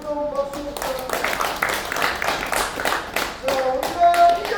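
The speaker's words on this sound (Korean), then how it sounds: "교수님께 뜨거운 박수 부탁드립니다." A crowd at a Busan car-parade rally claps in a dense, steady burst lasting several seconds, with voices and some tonal sound mixed in near the start and end.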